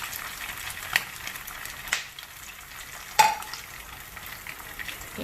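Mutton meatballs bound with besan flour fry in hot oil with a steady broadband sizzle throughout, broken by a few sharper pops and spatters near the start and middle; no one speaks.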